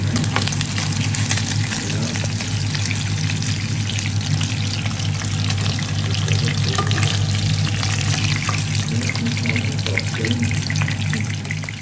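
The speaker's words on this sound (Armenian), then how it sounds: "Սա տապակում ենք" Food sizzles steadily in a hot frying pan, a continuous loud crackle and hiss with no pauses, up close, while khachapuri and a stew are being cooked at home.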